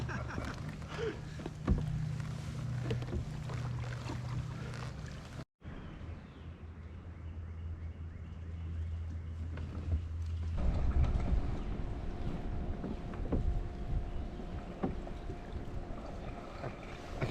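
Wind blows across a small fishing boat on the water at Navarro Mill, rumbling and buffeting the microphone in fluctuating gusts. There is a brief dropout partway through, then it continues at a steady, moderate level.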